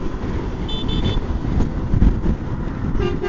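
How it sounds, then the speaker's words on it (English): A truck on the road gives a few short, clear horn toots over continuous traffic and engine noise, followed by one more brief honk near the end. "It's going to be a good day when you get a honk."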